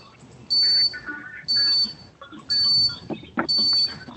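Dial-in tone on a court conference call line as a remote party joins a small claims hearing: four evenly spaced, loud electronic beeps, each about a third of a second, with faint room noise between them and no talk.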